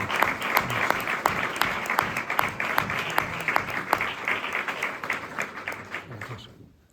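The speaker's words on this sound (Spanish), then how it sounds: "yo creo que es un aplauso" An audience applauds after a talk on peace and reconciliation, a full sustained round of clapping from many hands that holds steady and then tapers off toward the end.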